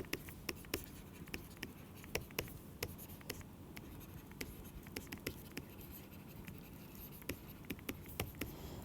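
Chalk or marker writing on a board in a lecture hall during a lesson on stress and strain tensors, a steady run of short scratchy taps and strokes at close range with no speech.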